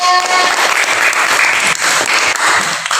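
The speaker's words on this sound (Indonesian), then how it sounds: "Tepuk tangan untuk Dinda." A classroom of pupils applauding a classmate after she reads aloud, dense close clapping from many small hands, loud and continuous for a few seconds.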